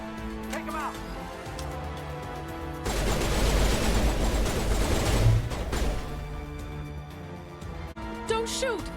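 Sustained burst of gunfire in the video game Mass Effect, a dense rattling fusillade in the middle stretch between quieter passages with game voices and music around it.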